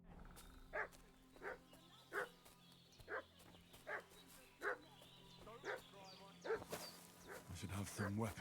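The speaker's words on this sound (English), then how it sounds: "What's that dog making such a fuss about?" A dog makes a fuss in a village in the medieval video game Kingdom Come: Deliverance II, giving a steady run of sharp, evenly spaced barks over a low ambient drone, with a voice speaking briefly near the end.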